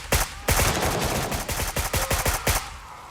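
A long burst of automatic rifle fire empties a magazine in the shooter Gray Zone Warfare, loud and close, with rapid cracks easing into separate spaced shots at the end.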